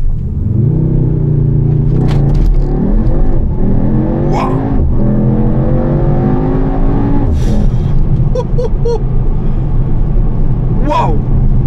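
A Mercedes-AMG GT63 S E-Performance hybrid accelerates hard, its engine roaring loud and close and climbing through the revs with gear shifts, while people talk and exclaim inside the car.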